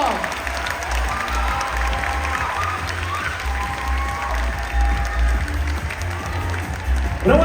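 At a Miss Universe Thailand preliminary special awards ceremony, a crowd applauds loudly and continuously, dense clapping mixed with some cheering and a low hall rumble, holding steady and swelling slightly near the end.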